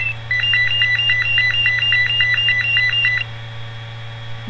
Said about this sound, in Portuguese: esse é de alarme de casa, que tá junto lá no quadro.